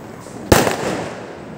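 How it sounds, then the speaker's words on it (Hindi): A single sharp firecracker bang during Diwali night celebrations, loud and close, followed by a brief crackling tail and lingering background noise. "देख ये पटाखा फोड़ रहा"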